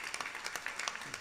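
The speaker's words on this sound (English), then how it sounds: "Yes, please give them a round of applause." Scattered applause rises from a congregation at a Krishna Mandir Sunday service, a brief patter of handclaps at moderate distance with no voices over it.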